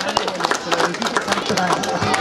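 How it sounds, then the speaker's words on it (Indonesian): Crowd clapping at an outdoor mass rally for the Al-Washliyah anniversary assembly, brisk scattered claps blending with voices and cheering, fairly loud across the whole stretch. "Tepuk tanganlah untuk Wasliyah."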